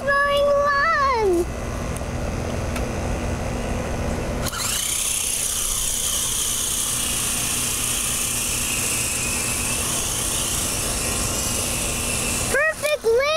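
A small toy helicopter's motor whines steadily at high pitch, close by and continuous, with brief voices and squeals at the start and end.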